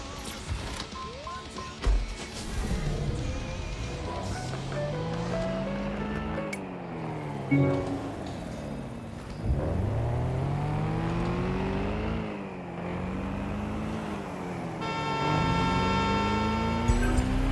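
A car drives through city streets in the video game Watch Dogs Legion, its engine revving up and down in repeated sweeping surges with shifting pitch, loud and continuous, with occasional clicks and a tonal chime near the end.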